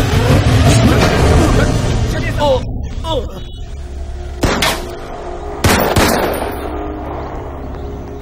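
Gunshots ring out in a dubbed police action film scene, a few loud cracks over a dense, rumbling soundtrack.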